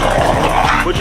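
An American Bully dog gives quick, high yips and whines during flirt pole play. The sound is close and loud over a dense, noisy background.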